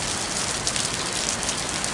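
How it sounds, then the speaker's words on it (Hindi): Heavy, steady rain pours down in Shimla, a dense continuous hiss that fills the whole moment without letup, close and loud, with no voices over it. "राजधानी शिमला में जो ये आप तेज बारिश देख रहे हैं"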